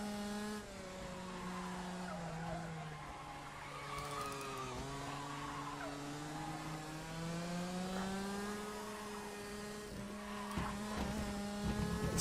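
Racing kart in the rFactor sim on a night race at Paul Fletcher International, engine droning with shifting pitch while tires squeal and slide through corners, steady and moderately loud with scraping bursts near the end.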